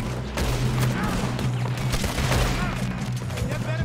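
Shotgun blasts ring out amid a dense firefight in the Western video game Red Dead Redemption 2, loud, overlapping shots with a voice talking over them.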